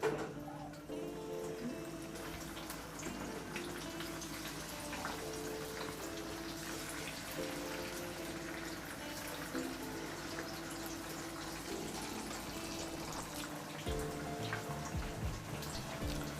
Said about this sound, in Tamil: இப்போ மீனை வந்து ஆயிலில் சேர்த்துடலாம்.